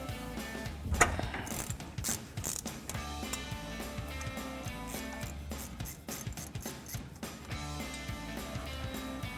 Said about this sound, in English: So now we can grab a 13mm socket on a ratchet and disconnect our banjo bolt